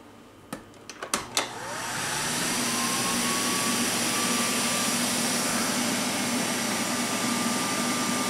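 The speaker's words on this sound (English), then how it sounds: "Let's cut that vacuum on." A few sharp clicks, then a vacuum cleaner powered by a LiFePO4 battery whirs up and runs steadily and loudly with a high whine.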